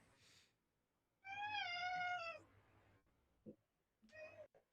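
A pet cat gives a long, wavering meow of about a second, followed by a shorter second meow, both close and clear in a quiet room with faint background noise.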